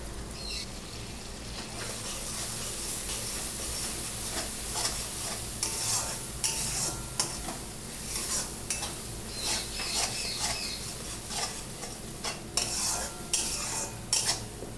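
Spice paste for fish curry being stirred in a sizzling frying pan, with a steady fry beneath repeated scraping and clinking of a spoon against the metal pan throughout.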